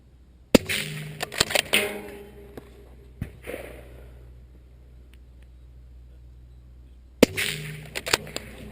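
Rifle gunshots at a long-range match, aimed at small steel targets: a burst of sharp reports and echoes near the start, a single crack around three seconds, and another loud volley near the end, with quiet outdoor ambience between.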